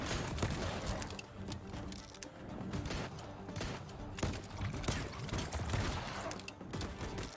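Relentless video game gunfire crackles without pause, dense overlapping shots and impacts forming a loud, continuous barrage for the whole stretch.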